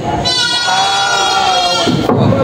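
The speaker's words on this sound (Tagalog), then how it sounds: "Ang daming mga kambing dito na nabili din sa Garcia." Native goats bleat at a crowded livestock market in Padre Garcia, Batangas; one loud, close, drawn-out wavering bleat rises over the background murmur of the herd and people.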